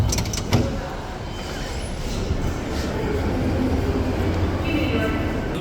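A New York subway train rumbles steadily with a low, continuous roar, a brief door or metal clunk near the start, and faint talk over the noise.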